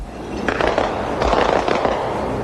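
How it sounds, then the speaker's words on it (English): Chaff launcher on a naval frigate firing strips of aluminum chaff into the air during evasive action against a missile, heard as repeated crackling pops and bursts over a steady background rumble, with no talk. "The frigate took evasive action and fired strips of aluminum chaff into the air to confuse the missile's"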